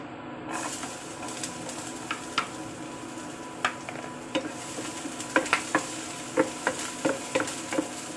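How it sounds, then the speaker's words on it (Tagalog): Chopped onions sautéing in hot oil in a pan for an eggplant lasagna, a steady soft sizzle running throughout with intermittent clicks and scrapes of a spoon stirring. "Gisa na natin yung ating sibuyas"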